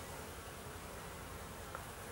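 Honeybees in an apiary on a cleansing flight, a steady, even hum of many insects close by with no voices over it.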